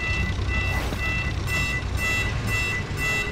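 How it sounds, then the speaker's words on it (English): A car alarm sounds inside a car, its loud, steady, pulsing electronic tones repeating over a constant engine rumble, close and with no voices. "Damn, there's an alarm in this car."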